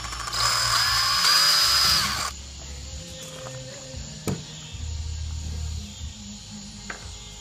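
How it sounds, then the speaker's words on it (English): A power drill whines loud and steady for about two seconds while boring a small pilot hole in an Engel cooler, then stops, leaving faint handling noises and a single sharp tap. "Pretty much I'm just taking a drill and drilling a small pilot hole."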